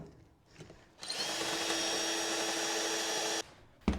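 A power drill bores through thick wood into a dresser drawer box backed by a scrap block, whining steadily and loudly for about two and a half seconds before cutting off sharply.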